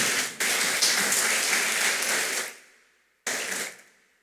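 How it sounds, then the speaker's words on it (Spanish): A church congregation claps, a dense, loud burst of applause that fades out, followed by a second short burst after a brief gap. "Dele un aplauso al Señor, hágalo"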